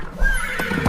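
A toy unicorn's horse neigh, a short close whinny rising and wavering over about a second, with a faint clip-clop of hooves beneath it.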